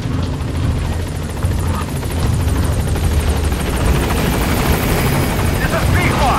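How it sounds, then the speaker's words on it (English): Helicopter in Metal Gear Solid 5 approaching a landing zone, a loud steady rotor thump and engine roar filling the whole stretch without letup. "I'll send the chopper."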